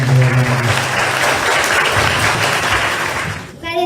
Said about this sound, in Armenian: ծափերով եկեք ողջունել